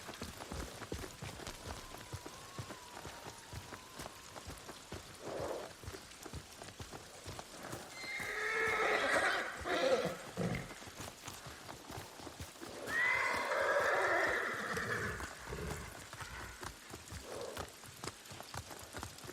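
A horse in Ghost of Tsushima gives two long, loud whinnies in the middle, set against a steady wash of rain and faint clip-clopping hooves; quieter hoof and rain texture fills the stretches before and after.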